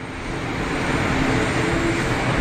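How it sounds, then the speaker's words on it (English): A jet airliner rolling out at Geneva Airport with its clamshell thrust reversers deployed makes a short, broad rushing roar that builds quickly and holds at a moderate distance. "Nice bit of clamshell reverser action."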